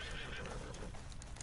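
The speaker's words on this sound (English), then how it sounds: "I'll try to just get on my horse and ride like the wind." A horse in a video game neighs loudly and close up, a whinny lasting just over a second, with hoofbeats clopping beneath it.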